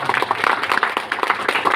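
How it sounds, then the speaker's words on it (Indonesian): Scattered applause from a small community gathering cheering a local figure at a village event, irregular claps spread over about two seconds at moderate level, with faint voices mixed in. "Tepuk tangan dulu dong."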